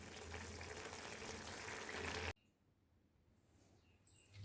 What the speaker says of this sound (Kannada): ಇದು ಚೆನ್ನಾಗಿ ಕುದೀತಾ ಇದೆ